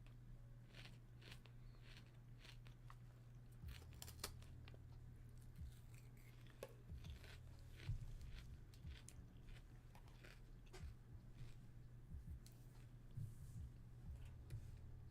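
Someone eating a salad produces intermittent crunchy bites and chewing, close and quiet, over a steady low hum.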